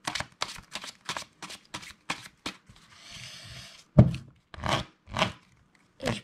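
A deck of playing cards is shuffled by hand in quick crisp riffles and snaps, a run of sharp bursts followed by a softer whirring riffle and a few final taps as the deck is squared, close and quiet with no voices.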